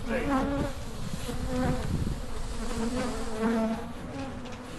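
A huge hive of bees in a horse stall buzzes loudly and continuously, with a dense, wavering drone of many insects close by. A brief spoken word comes through.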